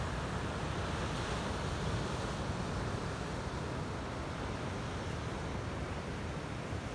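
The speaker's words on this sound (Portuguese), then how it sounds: "Sintam, ouçam o barulho do mar." Sea surf at Praia da Silveira in Garopaba, Santa Catarina, rolling as a steady broadband wash that holds an even level from start to end, with some wind noise mixed in and no talking.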